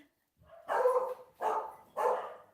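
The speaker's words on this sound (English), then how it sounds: "dogs barking." Dogs barking in the 2007 horror film REC, three loud, close barks in a row, each about half a second apart, with no talking over them.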